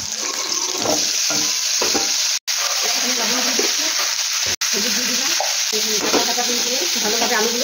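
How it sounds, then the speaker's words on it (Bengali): Raw potatoes frying in oil in a wok, giving a continuous loud sizzle with stirring scrapes and brief gaps, no voices. "এবার আলুগুলো ভাজার জন্য আমি তেল দিয়ে দিচ্ছি পরিমাণ মতো।"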